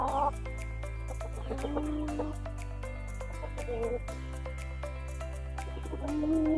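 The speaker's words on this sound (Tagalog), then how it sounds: "Malalaki na yung mga manok natin." Large laying hens and roosters on a small farm cluck softly and steadily beneath continuous background music, with no voices over them.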